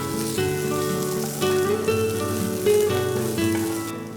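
Onion, capsicum, garlic and ginger frying in a little oil in a pan, giving a steady close sizzle with crackling pops over a background of music.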